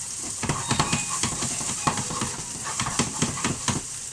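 Mushrooms and onions sizzle steadily in a hot pan for pork belly noodles, a loud continuous crackle with frequent sharp spits and stirring scrapes close up, no talking.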